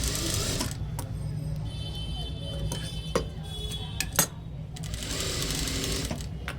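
A sewing machine whirs steadily as it stitches a blouse, a continuous mechanical drone running through the whole stretch, broken by a few sharp clicks and taps near the middle.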